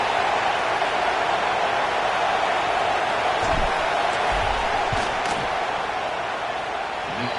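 A dense football stadium crowd roars in a loud, sustained wash of noise before a field goal kick, with a few thumps breaking through the steady din.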